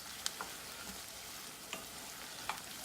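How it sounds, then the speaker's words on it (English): Chopped herbs including marjoram sautéing in a pan for a traditional stuffing-style dressing, a soft, even sizzle with a few light clicks of a utensil, close and fairly quiet, no voices. "We'll just saute that just for about 1 minute so the herbs can kind of release their flavors"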